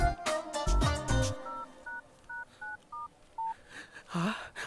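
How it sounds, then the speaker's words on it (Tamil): A phone number is keyed in on a telephone keypad: a quick run of distinct DTMF beeps, clear and evenly spaced, after some louder sounds at the start, ending with a brief tone. "போடு போடு, ஃபோன் போடு, பேசு பேசு."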